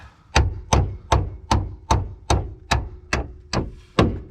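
Ten sharp, evenly spaced hammer knocks drive an axle into place on a Ford Torino, each blow close and crisp with a short ringing decay, no talk over them.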